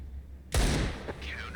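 A single sharp gunshot cracks in Counter-Strike 2 on the Dust II map, sudden and loud after a quiet moment, followed by a short ringing tail.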